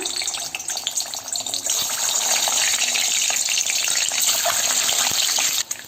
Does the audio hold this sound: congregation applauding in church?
no